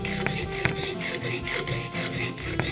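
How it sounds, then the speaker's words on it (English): A hacksaw cuts through thin metal rod held in a lathe, parting off a short piece. The rasping back-and-forth strokes are close and steady, with a faint metallic ring at a few of them. "let's part it off using hacksaw"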